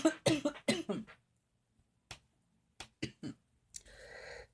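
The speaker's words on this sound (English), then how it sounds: "I'm coughing because I talk too much and my throat gets dry." Several short coughs close to the microphone, a burst of three followed by a pause and a few more, then a soft rustling noise.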